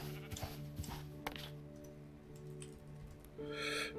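Sheep in the video game TerraFirmaCraft bleat a few times over a steady humming game backdrop with soft clicks, the calls moderately loud and close.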